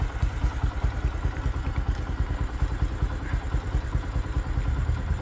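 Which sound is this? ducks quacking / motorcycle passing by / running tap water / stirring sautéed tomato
motorcycle passing by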